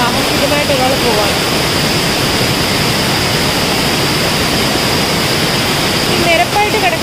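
Blappila waterfall in Konni pours in a steady, loud broadband rush of falling water that fills the whole stretch, with faint voices surfacing near the start and end.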